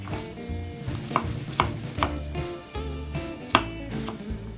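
A knife chops roughly through food on a cutting board, a series of irregular sharp knocks over about four seconds, close and fairly loud, with no talking.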